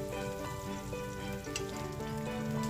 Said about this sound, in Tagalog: gigisahin natin muna ng ating mga garlic